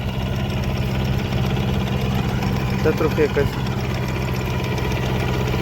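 A tractor engine runs steadily at idle with a low, knocking chug throughout, while a person speaks briefly nearby over it.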